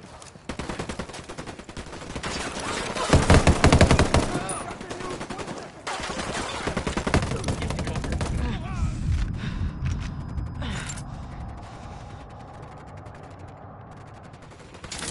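Gunfire in Ghost Recon Wildlands, bursts of automatic fire and scattered loud shots close by, strongest early on and thinning out later, with game voices and mechanical clatter mixed in.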